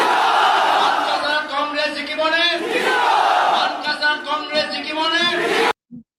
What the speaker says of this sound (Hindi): हालांकि जो वहाँ भीड़ है देखिए कितनी जबरदस्त भीड़ है।